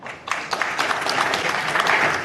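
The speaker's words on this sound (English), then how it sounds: "Let's give a huge round of applause for our grand jury." Audience applause at a hackathon event for the grand jury, a dense burst of many hands clapping that starts abruptly and holds steady and fairly loud throughout.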